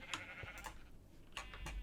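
Sheep bleating in the Minecraft video game, several short game bleats spaced across the moment over a steady low background hum, moderately loud and fairly close.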